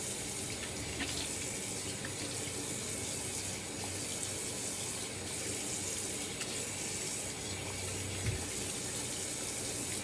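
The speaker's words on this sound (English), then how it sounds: "Get this soap off my face with cold water." Steady running cold water splashes continuously, like a tap flowing into cupped hands at a sink, rinsing soap off a face after wet shaving, fairly close and uninterrupted throughout.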